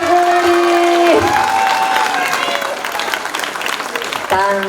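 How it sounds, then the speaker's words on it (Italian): Party guests applaud and cheer for Emma's seventh birthday at a gathering, loud clapping and crowd noise over which voices call out and a sung tone is briefly heard at the start and end. "Un grande applauso per Emma, tanti auguri!"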